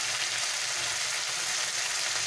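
Turmeric powder goes into hot oil for a fish curry, giving a steady, dense sizzle and hiss that continues evenly throughout, close and unbroken.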